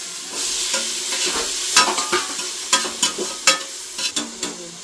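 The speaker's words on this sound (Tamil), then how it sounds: "இஞ்சி பூண்டு பேஸ்ட்லாம் வதங்கிடுச்சு" Ginger garlic paste and tomato sautéing in a pan, a bright continuous sizzle broken by repeated clacks and scrapes of a spoon stirring, loud and close with no talking.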